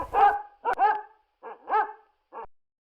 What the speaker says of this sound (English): he shouted to his dogs, and they came bouncing off the porch, eager for a chase.